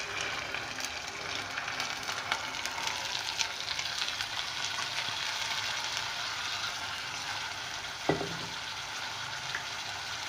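Half a kilo of chopped cluster beans (gawar) fry with garlic and ginger in a pan, giving a steady close sizzle and hiss throughout, with one sharp clatter of a utensil near the end.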